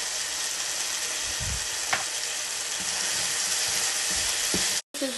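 Spring onion and mixed vegetables frying in a pan for mango and spinach tacos, giving a steady sizzle with a few clinks and stirring scrapes, close and alone.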